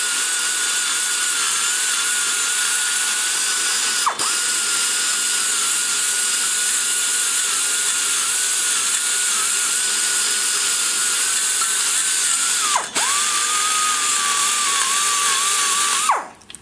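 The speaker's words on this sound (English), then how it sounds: "I try to focus the grinder strictly on the hump and nothing else." A die grinder works steadily on the port hump of a Denmark ProComp SBC cylinder head, giving a continuous high whine with two brief dips where it bogs down and a stop at the end.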